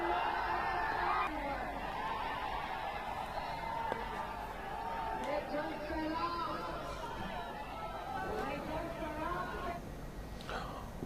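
Murmuring crowd chatter fills an outdoor election rally for Tejashwi Yadav in Bihar, a dense, steady hubbub of many voices with occasional whoops rising from the throng.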